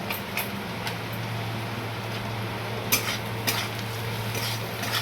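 Spices for a green chilli pickle fry and get stirred in a pan, a soft steady sizzle with occasional scraping clinks of a spoon against the metal, close and fairly quiet, with no talking.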